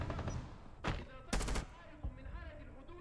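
Gunfire in Rainbow Six Siege, with a few sharp, close shots in quick succession, including a short rapid burst, standing out over quieter game ambience.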